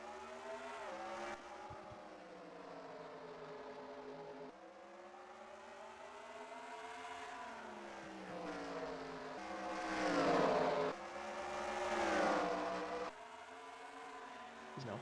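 NASCAR race cars roaring around Bristol in a racing video game, a steady buzzing engine drone with rising and falling pitch as cars pass, swelling louder near the end.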